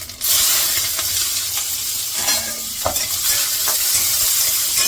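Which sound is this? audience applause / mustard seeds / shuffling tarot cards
mustard seeds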